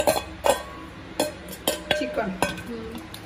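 Cooked chicken for cutlets being spooned into a bowl in a home kitchen, with a string of sharp clinks and scrapes of utensil against dishware, close and moderately loud, under faint background speech.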